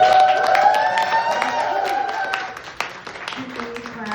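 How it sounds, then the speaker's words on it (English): A theatre event audience claps and cheers loudly for the host, the applause rising and then thinning out, with a voice talking over the crowd at times. "Clap real loud for Nabala for hosting us."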